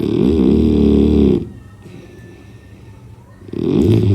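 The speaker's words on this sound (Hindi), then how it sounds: "थकावट में ऐसा खर्राटा हो ही जाता है।" An exhausted sleeping man snores loudly and close by, a long rumbling inhale-exhale, then a quiet pause, then the next snore starting.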